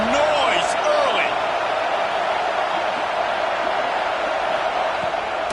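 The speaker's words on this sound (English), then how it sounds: "This crowd bringing the energy and noise early." Steady roar of a stadium crowd at a football game against the Longhorns, a dense continuous wash of cheering voices throughout, loud and enveloping, with a brief higher shout near the start.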